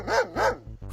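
A dog gives two loud, close barks in quick succession, followed by a softer third yelp, with no talk over them.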